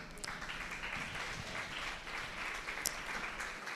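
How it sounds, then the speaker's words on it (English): Applause for teachers standing up at a secondary school debate event, a steady, fairly quiet wash of many hands clapping that carries on without a break. "please can the teachers stand up and give them a round of applause"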